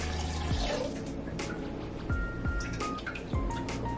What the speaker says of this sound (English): Add the lemon juice into the simple syrup and mix.